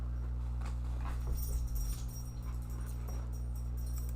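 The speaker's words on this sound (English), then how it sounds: "this dog's going to have to get down" A dog whimpers and shuffles about with soft panting, close and moderately loud over a constant low electrical hum, with no talking.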